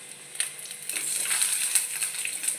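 Potato pieces drop into onions already fried red in a pan over lowered gas heat, setting off a steady, close hiss of frying with a few brief clatters and scrapes, with no voices.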